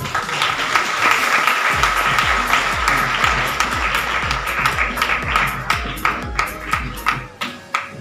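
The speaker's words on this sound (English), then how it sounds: "Students, please clap." Students at an award ceremony clap together in a dense, steady burst of applause that holds for several seconds before breaking into sharper, scattered claps near the end, filling the hall at close range.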